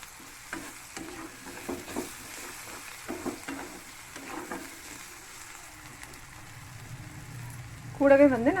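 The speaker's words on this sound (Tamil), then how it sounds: "நம்ம அரைச்சி வச்ச பேஸ்ட்டும் சேர்த்து நல்லா வதக்கலாம் ஃப்ரெண்ட்ஸ், எண்ணெய் பிரிஞ்சு வர வரைக்கும்" A ground paste sautés in oil for ginger chicken, giving a soft sizzle with intermittent stirring scrapes, and a louder clatter rises just before the end.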